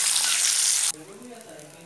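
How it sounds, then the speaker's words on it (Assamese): Loud hissing sizzle of two boiled eggs frying in oil, cut off abruptly partway, leaving faint background sounds. "এতিয়া ডিম দুটা অলপ গল্ডেন কালাৰ হোৱালৈকে ভাজি ল'ম"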